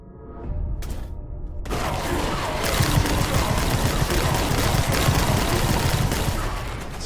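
Gunfire in Red Dead Redemption 2 erupts after a brief lull, turning into a loud, dense barrage of shots that continues almost without pause, close and dominant, with no voices on top.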